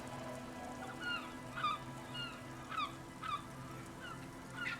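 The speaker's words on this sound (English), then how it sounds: "Nothing but the sound of seagulls high above in the sky, echoing like distant laughter" Seagulls crying high overhead in the Disco Elysium video game, a series of short, repeated calls arriving at irregular intervals over a steady low ambient hum, sounding distant and echoing.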